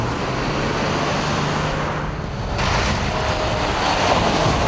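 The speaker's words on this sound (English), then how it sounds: "push this button, hit the ignition key, and away we go" A Toyota FJ 4x4 with a six-speed manual sits on a slippery hill, its engine rumbling steadily before a noticeable surge as it pulls away, close and loud without speech.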